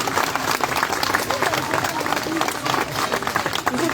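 Audience at a sea lion show clapping in a steady, dense burst of applause that runs throughout, with crowd noise and some voices mixed in.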